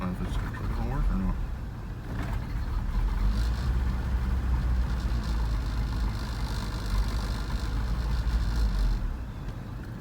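A Toyota 22RE engine in a pickup with a fault that stops it running when warm turns over and settles into a low, steady idle, rumbling continuously near at hand.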